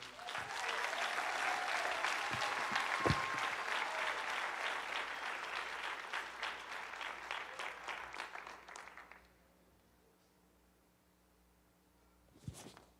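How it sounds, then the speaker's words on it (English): A crowd claps at an eighth grade graduation ceremony at a charter school, steady sustained applause for about nine seconds that then cuts off, leaving quiet room tone with a brief thump near the end. "Let's give another round of applause to Brandon."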